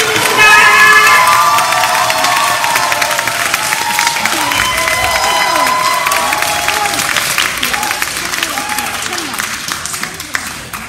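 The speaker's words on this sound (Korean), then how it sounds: "박수로 맞아주시기 바랍니다" A church hall audience at a Christmas parish choir festival claps and cheers to welcome a priest onstage, loud dense applause with shouts and children's voices, a host's voice carrying over the crowd and fading slightly toward the end.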